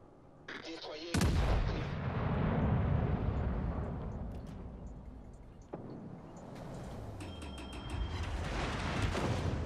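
Ship turret artillery in World of Warships, a heavy booming salvo that opens with a sharp crack, rolls into a long rumbling decay and is followed by another single blast, with game effects in between.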